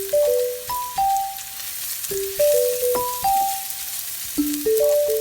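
Ginger sautéing in a pan for salmon fish head sinigang gives a steady, soft sizzle that runs under a simple melodic music track throughout.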